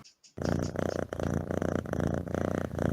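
During a Dungeons and Dragons session, a person's voice imitates a cat purring: a loud, steady, rumbling purr that starts abruptly after a brief pause and continues in rhythmic pulses, with no talking over it.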